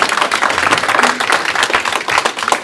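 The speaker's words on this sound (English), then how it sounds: "Yeah, can we clap for these guys?" An indoor audience at a candidates' forum claps steadily for the volunteer fire department, with dense, lively applause throughout and no speech over it.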